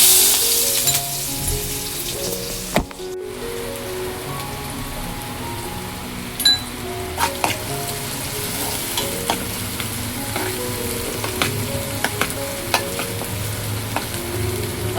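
Ingredients for a Bombil Kalvan fish curry are tipped into hot oil in a home kitchen and fry with a steady, close sizzle, broken by occasional stirring clinks.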